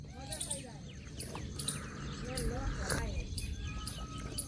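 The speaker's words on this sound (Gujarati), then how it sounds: "ચકલા દોણા ખાવા આવ્યા છે" Sparrows chirp in quick, repeated bursts close by at a house, with people talking over the birds throughout.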